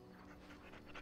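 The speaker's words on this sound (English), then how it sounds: "Pet the dog." A dog pants briefly and softly in Dragon Age: Origins as it is petted, a short quiet run of breathy huffs.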